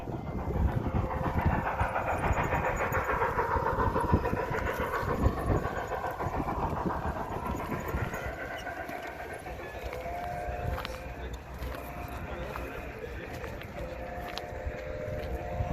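A model train from a model railroad club's large U-shaped layout runs along its track at an event, giving a steady rolling rumble with faint clicking throughout, amid indoor crowd ambience.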